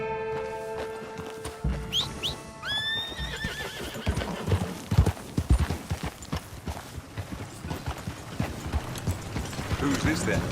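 Horse hooves and neighing in the Red Dead Redemption 2 video game, a sharp whinny early on followed by steady clip-clop hoofbeats at a walking pace, with game ambience and a voice talking over them.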